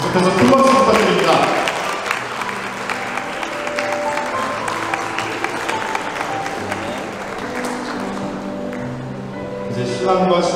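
Sustained applause from wedding guests greeting the bride and groom, a dense wash of clapping filling the hall for about ten seconds, with music and voices underneath.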